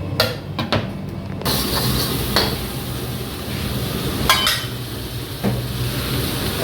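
Clattering metal pan and utensil knocks while garlic potatoes are stirred and cooked in a busy Kathiyawadi restaurant kitchen, with sharp scraping clinks over a steady low kitchen hum.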